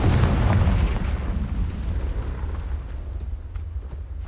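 Confringo fire spell blast in Hogwarts Legacy, a loud booming burst that rolls into a long fading rumble, heard alone.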